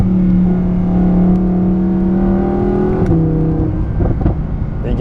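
An Audi R8 supercar's engine drones steadily while driving at modest throttle, a loud, close, continuous tone that shifts pitch around mid-clip before settling lower.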